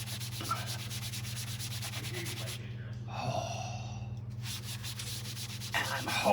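Scrubbing brand-new white-wall tires on a 1959 Ford Fairlane with an aggressive cleaner makes a steady, close brushing rasp. It continues throughout with a brief lull near the middle, over a constant low hum.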